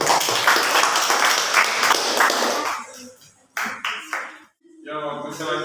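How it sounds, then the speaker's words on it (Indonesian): Classroom applause after a group presentation, a burst of many hands clapping for nearly three seconds, then breaking off into scattered claps and a voice speaking. "Berikan aplaus."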